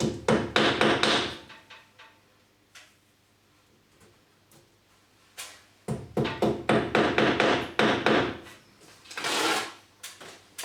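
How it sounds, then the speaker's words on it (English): Rapid bursts of hammer taps driving plastic wall plugs into a wall, quick sharp knocks in two clusters separated by a quieter pause, close by with no talking. "we can just tap those in using an hammer"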